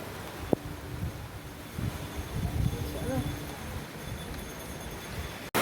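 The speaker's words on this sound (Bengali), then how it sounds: "এত করে বৃষ্টি পড়ছে" Heavy rain pours onto a rooftop in a steady, dense hiss that fills the whole stretch, with a few faint knocks and a brief thud near the end.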